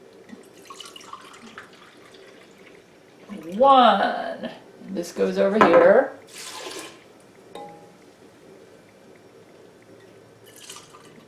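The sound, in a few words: pouring bean-soaking water into pot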